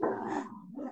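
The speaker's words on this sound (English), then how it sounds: "David, can you put the dog out" A dog gives a single fairly faint bark or woof indoors, one short voiced burst that trails off within a second.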